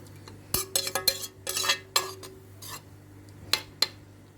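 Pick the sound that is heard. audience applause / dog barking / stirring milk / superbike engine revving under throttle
stirring milk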